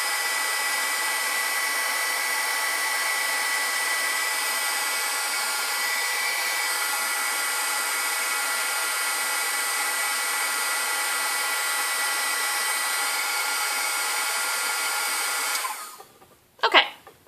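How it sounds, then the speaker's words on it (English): A heat tool runs steadily during heat embossing, a continuous loud whooshing blower roar that holds for about fifteen seconds, then cuts off, leaving a couple of brief handling knocks near the end. "So now I've got that heat embossed."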